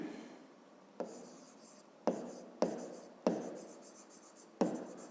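A pen writes on paper in a fifth-grade maths exercise, giving a quiet scratchy sound with several distinct strokes starting about every second, each trailing off softly, with no voices.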